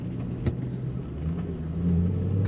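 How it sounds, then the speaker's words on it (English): Low, steady engine rumble from a 2007 Ford Mustang GT coupe, heard from inside while driving, swelling slightly louder toward the end with no talking. "Nice rumble to this car."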